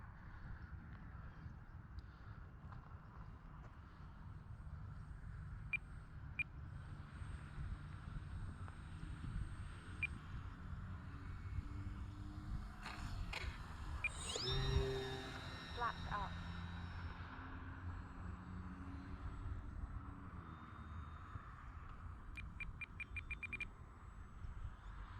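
A Florida winter day with an FMS Sky Trainer 182, a Cessna 182 RC model airplane, flying at a distance; its faint motor hum swells into a brief pass around the middle over steady wind and outdoor background noise.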